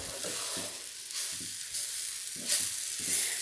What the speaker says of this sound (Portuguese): Agora é só continuar mexendo para o sabor pegar em toda a farinha